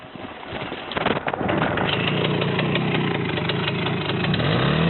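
A Romet motorcycle engine starts rough with a few clatters, then settles into a steady, close idle with a low throbbing drone.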